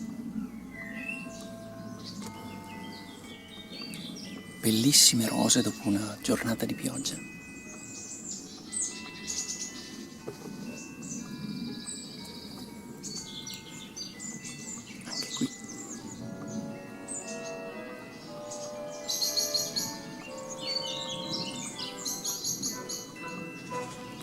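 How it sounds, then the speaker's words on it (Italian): Small birds chirp and twitter intermittently in a garden in Monfestino, Italy, after rain, with scattered high calls near and far, while someone speaks calmly over them throughout. "Come al solito ci accompagnano il canto degli uccellini"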